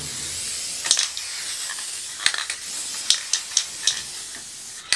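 A nearly empty aerosol spray can sputters out a loud, close hiss broken by sharp spits and clicks at uneven intervals over several seconds.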